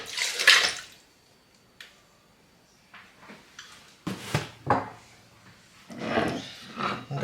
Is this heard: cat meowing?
no